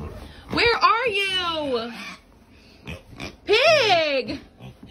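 Pig grunting and oinking indoors in two loud bursts with squealing, rising-and-falling tones, at close range, with quieter rustling between.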